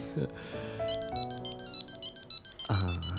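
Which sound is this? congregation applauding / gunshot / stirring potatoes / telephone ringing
telephone ringing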